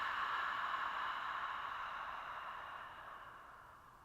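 A long Ujjayi breath pushed out through the open mouth with the throat contracted, a soft airy hiss heard close and alone that slowly tapers off over several seconds.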